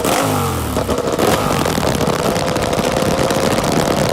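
Ducati Desmosedici GP21 racing motorcycle with a 1000 cc V4 DOHC 16-valve engine revving hard, a loud, dense, raspy roar that rises at the start and then holds steady and close.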